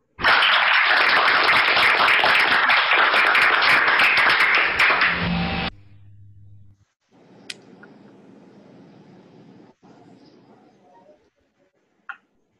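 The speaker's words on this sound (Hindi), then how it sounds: "तालियों के साथ आमंत्रित करती हूँ दिल के गहराइयों से।" Audience applause welcoming a speaker at a multi-day event in Vidarbha, loud dense clapping for about five seconds, then a low hum, faint room noise and a sharp click near the end.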